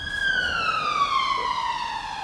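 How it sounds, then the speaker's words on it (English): A loud ambulance siren wails on one continuous tone that slowly falls in pitch, as if the vehicle is passing by, with no talking. "to be fair, it's an ambulance"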